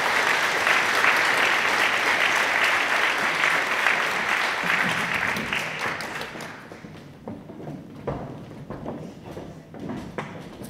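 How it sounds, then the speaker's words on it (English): A final round of applause for highly commended apprentices at an awards ceremony starts loud and full, then thins out over several seconds into scattered claps, shuffling footsteps and room clatter. "If I could have a final round of applause for our 6 highly commended apprentices."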